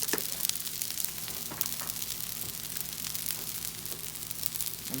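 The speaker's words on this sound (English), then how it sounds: "I'm gonna go ahead and get the meat on the griddle." Beef sizzles and fries on a griddle for fried rice with a steady, dense crackle. Scattered pops and scraping sounds come through the sizzle. No one speaks.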